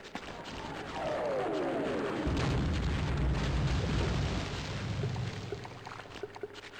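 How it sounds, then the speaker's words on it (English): An airstrike explosion in the video game Half-Life lands as a deep rolling boom that swells after a falling whine, then rumbles on and slowly fades. "And yet another airstrike."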